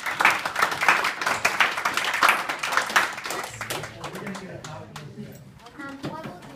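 Audience at a marketing presentation claps for a few seconds, a busy patter of hands that fades out as a voice carries on talking over the tail of it.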